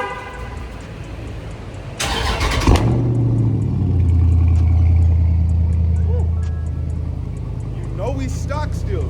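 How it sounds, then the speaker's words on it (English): A Dodge Charger 392 Scat Pack engine cold-starts, cranking and catching with a sharp burst, then settles into a loud, steady low rumble that gradually eases, with faint talk in the background. "gotta give y'all a little cold start real quick"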